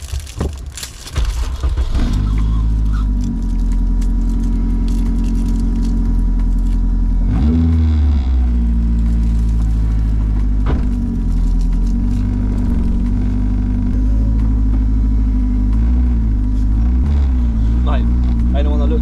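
Honda EF Civic with a swapped SR20DET engine idling and revving nearby, a steady low rumble with a blip around the middle, under men chatting.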